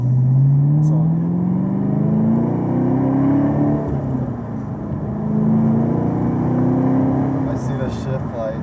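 Engine of a 650hp Chevrolet Camaro ZL1 pulling steadily from inside the cabin as the car accelerates in normal driving, a loud continuous drone with rising tones, with someone talking over it.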